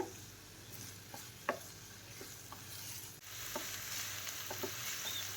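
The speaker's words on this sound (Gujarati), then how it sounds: "આવી રીતે વચ્ચે વચ્ચે તાવીથો ચલાવવાનો છે અને આપણે કૂક કરવાના છે, સાતળવાના છે" Vegetables with salt sauté over a low gas flame in a pan, a soft steady sizzle punctuated by scattered clicks and scrapes as a spatula stirs them now and then, quiet and close.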